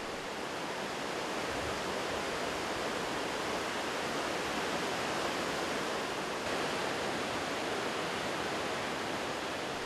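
Iguazu Falls roars continuously, a dense, even wall of rushing water that stays loud and steady throughout with no voices.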